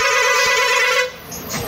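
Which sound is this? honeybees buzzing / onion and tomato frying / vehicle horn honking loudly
vehicle horn honking loudly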